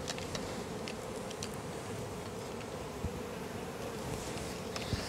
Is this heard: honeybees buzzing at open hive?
yes